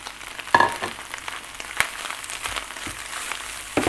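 Yellow noodles stir-fried with chicken sausage and vegetables in a pan, giving a low, steady sizzle broken by sharp clinks and scrapes of the utensil tossing the noodles.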